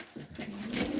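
Soft low cooing from well-fed young pigeons in a backyard loft, a short murmuring call rising and swelling over about a second, close and fairly quiet.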